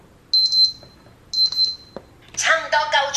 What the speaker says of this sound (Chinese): 这是奖杯，奖杯形状的闹钟哦